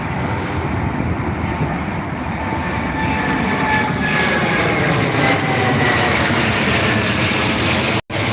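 Biman Bangladesh Airlines Boeing Dreamliner at Heathrow, a loud, steady jet engine roar with a broad rushing tone that holds throughout, close and dominant, with no voices.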